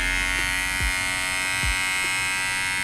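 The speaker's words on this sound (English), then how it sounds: "That's the new Bevel clipper and trimmer combo." Bevel Pro electric hair clipper and trimmer combo running steadily, a close, constant motor buzz with a bright whine, alone and without pause.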